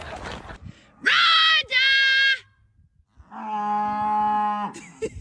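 Cows mooing on a farm: two loud, close, drawn-out moos in quick succession, then a longer lower moo after a short pause, with brief noises between.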